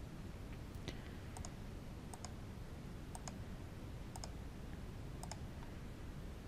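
Sharp computer mouse clicks in pairs and singles at a steady interval, close by, over a constant low hum while working in Android Studio.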